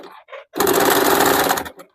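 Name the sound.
sewing machine stitching cloth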